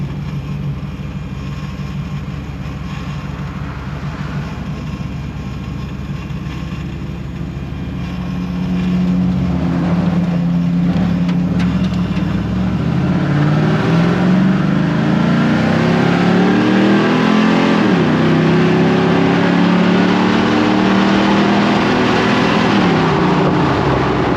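LS-swapped Humvee on a dyno, engine idling low then revving up into a loud sustained pull with rising pitch through a gear shift, held to the end.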